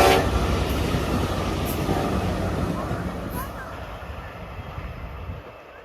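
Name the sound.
Ontario Northlander delivery train led by UP Ace locomotive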